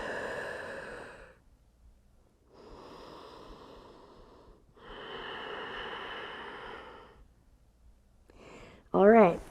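Slow, deep breathing during a yoga session, with long audible inhales and exhales separated by quiet pauses, close and clear, ending with a brief voiced sound.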